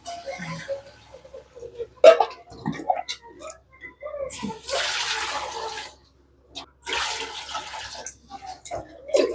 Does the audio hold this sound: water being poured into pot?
yes